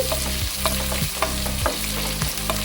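Onions frying in a pan over high flame, a continuous loud sizzle with repeated spatula strokes scraping the pan roughly every half second. Steady kitchen hum sits underneath.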